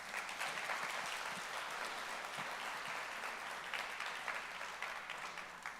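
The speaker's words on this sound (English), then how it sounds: "please give them a round of applause" Sustained applause from an audience at a community remembrance gathering in Atlanta, dense steady clapping filling the whole stretch at an even level with a faint crowd murmur underneath.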